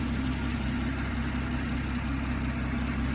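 BMW M140i Shadow Edition five-door with its turbocharged six-cylinder engine idling, a steady, even, close rumble that holds unchanged throughout with no voices.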